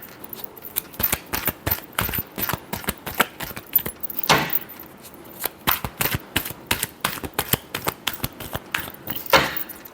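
Tarot cards riffle and shuffle in a steady run of crisp, close, sharp flicks with brief pauses between bursts and no talking.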